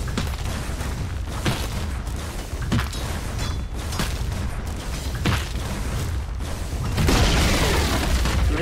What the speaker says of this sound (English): Radiant's bottom tower has fallen.